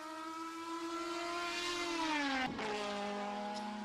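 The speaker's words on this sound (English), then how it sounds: "Glorious noise from that inline 4-pot turbocharged engine." An inline four-cylinder turbocharged DTM race car at Hockenheim holds a loud, steady engine note, the pitch falling as it passes close by mid-clip, then droning on slightly lower.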